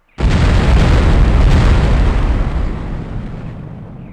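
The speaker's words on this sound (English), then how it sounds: "there was an explosion of unknown origin in the town of Shilling, England" A single loud, close explosion from the video game The Operative: No One Lives Forever bursts in suddenly and holds as a dense roaring boom before slowly fading, with no voices.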